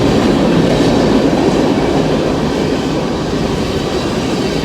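A freight train rolls past close by, a loud, continuous rumble and clatter of wheels and cars that holds steady throughout, with no voices.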